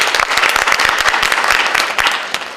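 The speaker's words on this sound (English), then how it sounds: "Let's give them another round of applause." A campus event audience gives a round of applause, dense and loud with sharp individual claps throughout, tapering slightly at the end.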